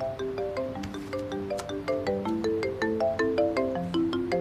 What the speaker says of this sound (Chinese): SG 电话。